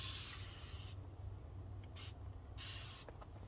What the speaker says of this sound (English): then we will spray our window